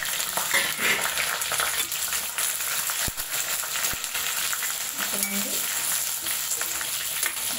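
Dried red chillies and coriander seeds fry in a pan with a steady, crackling sizzle up close, punctuated by a few sharp clicks and scrapes of a stirring spoon.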